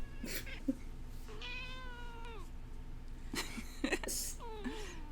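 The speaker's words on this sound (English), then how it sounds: "Say meow again." A cat meows several times, a drawn-out rising and falling cry followed by shorter meows, close by with light background noise.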